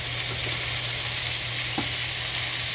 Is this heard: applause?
no